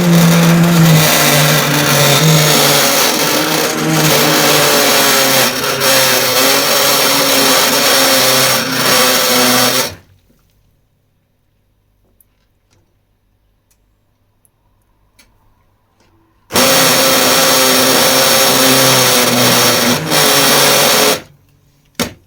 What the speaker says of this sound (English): You can see the fibrous parts in the blender there.